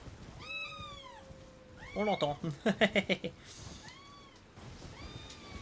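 A cat meows several times, some long and rising, with a quick run of sharp, choppy meows in the middle, while a person murmurs briefly nearby.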